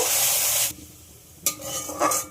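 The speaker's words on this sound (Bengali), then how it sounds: "মশলাটা একটু নাড়তে হবে দু তিন মিনিট মতো" Spice paste being stirred as it fries in a pan for an ol (elephant foot yam) dalna: a loud, steady sizzle with scraping stirs that drops away briefly, then returns in short bursts.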